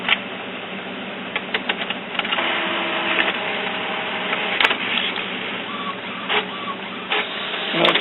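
Epson Expression Premium XP-600 inkjet printer printing a page with refilled ink cartridges, a close, steady whirring hum of the carriage with repeated mechanical clicks and clunks from the paper feed.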